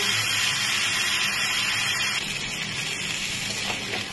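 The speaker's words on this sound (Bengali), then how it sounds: "এবার ইঁচড়টা দিয়ে কিছুক্ষণ কষিয়ে নেব।" Young jackfruit sautéing in a pan for enchor dalna, a steady dense sizzle and hiss that runs throughout at moderate loudness, easing slightly midway, with no voices.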